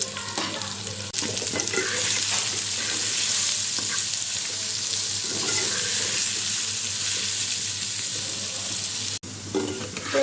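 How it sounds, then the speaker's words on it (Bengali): Small potato pieces fry in oil with salt and turmeric in a kadai, giving a loud, steady sizzle for about ten seconds. Repeated stirring scrapes run through it, and there is a brief dropout near the end. "উল্টে আলুটা আমি ভালো করে ভেজে নিলাম"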